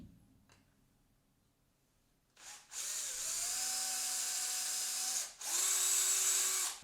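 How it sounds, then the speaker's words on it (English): A reaming tool whirs in two bursts, a high steady drilling whine lasting a few seconds, pausing briefly, then resuming close up. "I can just run a drill through them later, or in this case a reaming tool"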